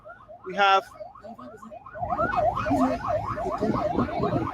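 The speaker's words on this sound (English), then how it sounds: "you can hear the siren in the background" A wailing emergency siren rises and falls in a fast, steady cycle in the background of a radio broadcast, with voices talking over it and a brief high squeal early on.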